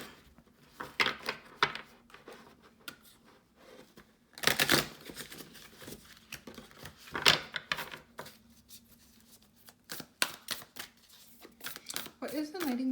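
Tarot cards are shuffled in quick riffling bursts, crisp papery flutters repeating several times, close by, with brief pauses and light handling noise between.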